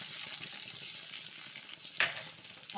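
Fried raisins and cashews stirred into kashi halwa cooking in ghee, a steady soft sizzle with a brief scrape of the spoon near the middle and another at the end, no voices.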